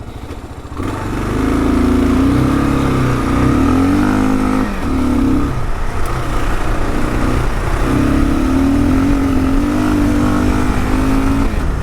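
A 2022 Kawasaki KLR650 ABS motorcycle on a gravel road, its engine droning steadily close by and dipping in pitch as it slows under braking, then rising again; no talking.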